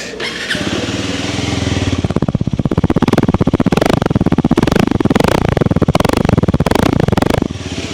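A CFMOTO 125NK, a 125 cc motorcycle, starts up and settles into a loud, close, steady idle with a rapid pulsing exhaust beat for several seconds.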